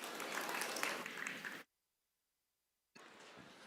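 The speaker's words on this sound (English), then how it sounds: "one more round of applause" A live audience applauds the student chefs from Dauphin County Technical Institute after a mushroom taco cooking demonstration on a culinary stage. Dense clapping fills the first second and a half, breaks off into silence, then resumes.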